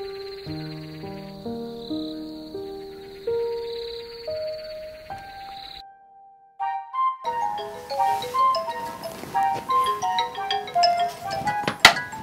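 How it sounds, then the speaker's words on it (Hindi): A melodic phone ringtone plays a stepped tune of clear tones, pauses briefly, then a brighter electronic ring melody follows, loud and close. "फोन करता हूँ"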